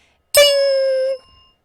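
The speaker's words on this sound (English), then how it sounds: "you guys each get your own bell" A single bright bell ding rings out clearly and sustains for about a second before fading, played as a welcome sound effect with no talk over it.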